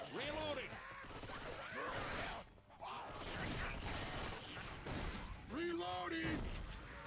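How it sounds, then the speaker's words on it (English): Gunfire and weapon mechanisms in Left 4 Dead 2 crackle in dense, loud bursts, mixed with shouting game voices and chaotic combat noise. "Reloading."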